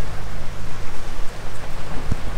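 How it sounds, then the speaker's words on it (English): Warm rain pours down outdoors at Pipe Creek in the Bahamas, a dense, steady hiss of drops close to the microphone with a soft low rumble underneath and no talking. "It's a warm rain, that's all I can tell you."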